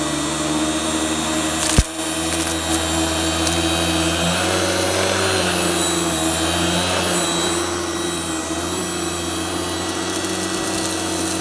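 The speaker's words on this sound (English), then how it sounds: "now let's vacuum this up and see how it does" A vacuum cleaner drones loudly and continuously up close, sucking up mixed debris from an unboxing, with a sharp knock near the start and steady broadband roar throughout.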